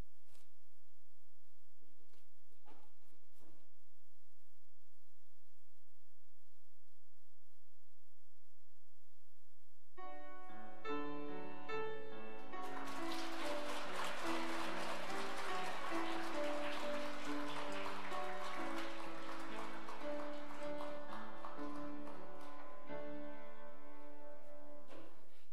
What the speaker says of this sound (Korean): 전달할 때에 큰 박수로 격려해 주시기 바랍니다